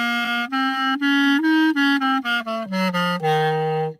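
A clarinet plays a minor scale in practice, a run of sustained, clear reedy notes stepping from one pitch to the next, close and solo with no talk.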